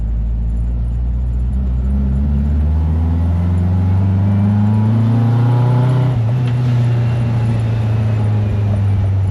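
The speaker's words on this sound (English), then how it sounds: "Hit some potholes, see how we go." A Volkswagen Kombi van drives over potholes, its engine droning loud and steady with a low rumble that rises slightly in pitch, road thumps blended into the continuous cabin noise.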